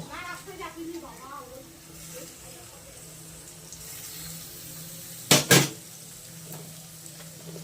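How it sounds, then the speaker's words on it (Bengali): Kolmi greens frying in a pan: a steady sizzle runs under a person talking, with a few soft stirring scrapes and two sharp, loud clatters near the end. "ভালো করে ভেজে নেব আর লাল লাল করে ভেজে নেব"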